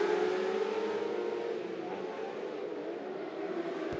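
600R mini sprint cars roar steadily around a dirt track during a heat race, a dense, continuous engine drone from several cars at once with no gaps.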